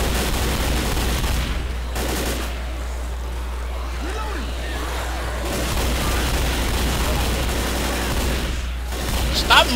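Heavy, sustained gunfire in the co-op zombie shooter Left 4 Dead, dense rattling shots and booms throughout, with players talking and shouting over the chaos.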